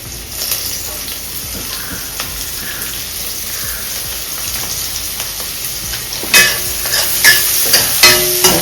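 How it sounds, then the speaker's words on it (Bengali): Chopped garlic and chili fry in hot oil for chicken fried rice, a steady close sizzle with scraping stirs and sharper bursts of spattering toward the end. "এবার এর মধ্যে রসুন কুচি দিয়ে ভেজে নেব আর লঙ্কা।"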